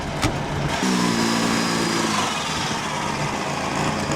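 A 1928 Bugatti Type 43 at the 2012 Mille Miglia: its engine catches for about a second with a buzzing, steady-pitched run, then drops back into a rough mechanical rumble, heard close up with no talking.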